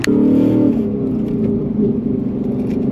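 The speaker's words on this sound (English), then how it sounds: "There's a bit of a rattle coming from the exhaust because I put the valves closed" Race car at the Nürburgring with exhaust valves closed, its engine rumbling steadily with a low rattling buzz from the exhaust, loud and close throughout.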